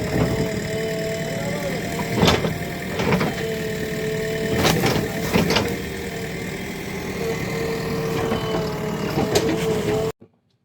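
A borewell drilling truck's engine idles close by near a lemon tree on farmland, a steady mid-pitched rumble with a few sharp clanks and knocks breaking through before it cuts off abruptly.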